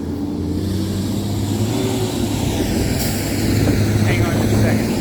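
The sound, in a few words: buses driving to be fueled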